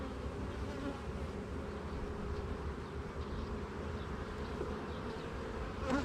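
Honey bees buzz continuously around an opened mating nuc, a dense, steady, moderately loud hum with no talk.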